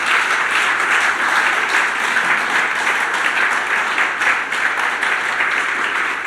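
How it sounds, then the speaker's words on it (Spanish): A church congregation applauds steadily at a Spanish-language service, a dense and even wash of clapping that holds for several seconds with no speech over it. "¿Por qué no le das un aplauso al Señor por eso?"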